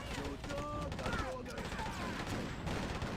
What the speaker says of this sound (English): Shoot that guy.